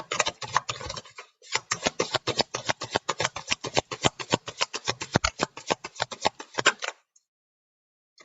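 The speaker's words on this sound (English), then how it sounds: "I'll pull an Isis card to conclude it" Oracle cards are shuffled by hand, giving a rapid run of crisp riffling taps and slaps up close, with a brief pause near the start and quiet at the end; no talking.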